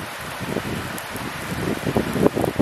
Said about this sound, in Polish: Ostro leje, może to będzie bardziej widać.